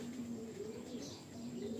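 Running pigeons kept in a loft give a steady, low rolling coo that carries through the whole moment, close and moderately loud, with no voices over it.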